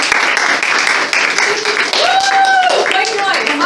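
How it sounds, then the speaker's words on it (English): An audience claps for a dancer at a live event, a dense, steady wash of applause running throughout, with voices and whoops rising over it in the second half. "So we're just gonna clap for you."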